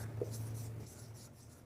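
Writing by hand while teaching a maths lesson on place value, a soft scratchy scraping of a pen or marker in short strokes, faint and close over a steady low hum, no talking.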